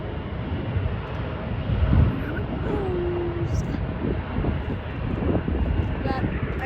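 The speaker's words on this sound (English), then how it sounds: "Here comes an Embraer 175 taking off." An Embraer 175 jet airliner takes off at SeaTac airport, a broad, steady engine roar with wind buffeting, swelling briefly and holding at a moderate distance while people talk nearby.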